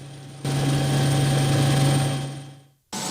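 Police helicopter at an air wing hangar, its engine and rotor giving a steady droning whine with a strong low hum that holds, then fades and briefly drops out before resuming; no talking.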